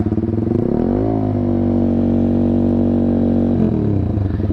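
Kawasaki Z200 motorcycle fitted with an SC Project exhaust revving up to about 6,000 RPM, a loud, close, steady engine roar that climbs, holds a high drone for a few seconds, then drops back.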